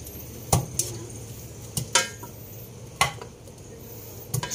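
Boiled pork rib pieces being moved into a pressure cooker bring several sharp clinks and clatters of utensils and pot, spaced irregularly over quiet kitchen background.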